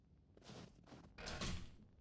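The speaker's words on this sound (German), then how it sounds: "Mist, die Tür ist durch." Zombies break through a door in the video game 7 Days to Die, a set of heavy banging and crashing hits that rise to a louder final burst, with no talk over them.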